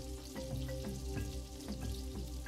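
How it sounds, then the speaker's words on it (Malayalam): Butter and oil heating in a hot pan give a steady, close sizzle and crackle with small pops scattered throughout, with no voices over it. "അത് കഴിഞ്ഞിട്ട് നമുക്കൊരു പാൻ തീ വെച്ച് ചൂടാക്കി അതിലേക്ക് കുറച്ച് ബട്ടർ ഇട്ട് കൊടുക്കാം"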